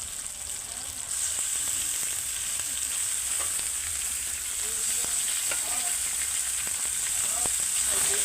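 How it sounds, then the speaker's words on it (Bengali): Desi chicken fries hard in a pan as it is cooked down (koshano), giving a loud, continuous sizzle with scattered stirring scrapes and clicks throughout, with no one talking. "দেশি মাংস কিন্তু কষে,"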